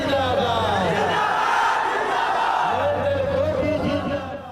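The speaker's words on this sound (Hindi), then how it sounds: "बीच बीच में भीड़ पीएम मोदी और सीएम नीतीश कुमार के लिए नारे लगाती है।" A dense political crowd chants and shouts slogans for PM Modi and CM Nitish Kumar beside a slow vehicle convoy in Bihar, the massed voices loud, close and continuous throughout.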